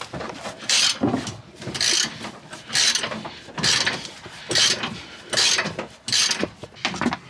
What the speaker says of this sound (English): You're gonna take an 18 millimeter with a ratchet and start